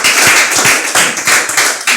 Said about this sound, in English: Shall we give a round of applause once again?